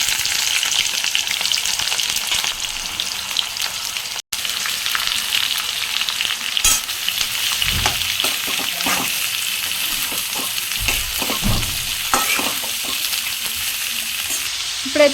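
Onions hitting hot oil with cumin and dried red chillies, a loud, dense sizzle and crackle that runs throughout, with scraping stir strokes and small splatters mid-way, close and without speech.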